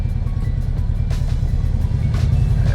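An abandoned classic Porsche engine runs roughly as it struggles to idle, a close, steady low rumble with a faint uneven pulse and a couple of brief higher clatters.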